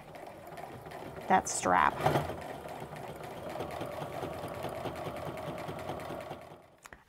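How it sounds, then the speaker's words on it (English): A sewing machine stitches apron fabric in a steady, fast mechanical whir, with brief handling noises early on and a voice speaking briefly. "I'm just gonna start down here, remove my pins as I come to them, and stitch all the way up"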